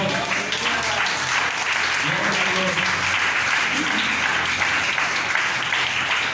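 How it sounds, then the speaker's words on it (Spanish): A church congregation at a Pentecostal service applauds in steady, dense clapping that fills the whole stretch, with faint voices murmuring and calling out underneath. "Démosle un aplauso, hermanos, al Señor."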